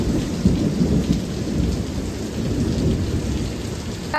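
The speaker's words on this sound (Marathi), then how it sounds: "पाऊस तर इतका धूर होत आलेला आहे बाहेर" Heavy rain pours down outside a house in hill country, a steady dense roar of drops on surfaces with deep low rumbling, loud and continuous, with no voices.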